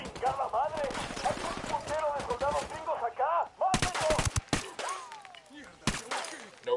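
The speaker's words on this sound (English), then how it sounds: "Oh, that's not good. Opening fire." Gunfire in a Ghost Recon video game: loud bursts of rapid automatic shots and single cracks, mixed with a voice shouting over the shooting.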